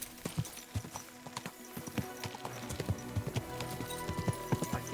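Horse hooves clip-clop at a steady walking pace in the medieval Kingdom Come Deliverance II video game, a quiet, close series of hollow hoof strikes over faint background ambience.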